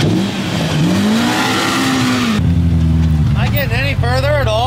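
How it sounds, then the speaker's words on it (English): An off-road vehicle's engine revs hard at the Glamis dunes as it pops a wheelie, loud and close with rising and falling pitch sweeps, while people talk over it. "She popped up for a wheelie after that, Landon."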